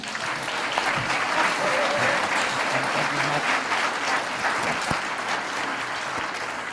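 Audience applause at a live evening awards show, a steady, moderately loud wash of many hands clapping across the whole stretch, with a few faint crowd noises mixed in.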